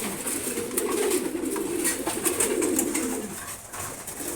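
Pigeons coo in low, repeated throaty calls close by while being fed in the morning, with faint pecking and rustling and no talk.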